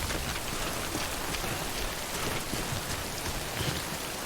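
Steady rain in the video game Death Stranding, a dense, even hiss of falling drops that holds constant throughout at a moderate level with no voices.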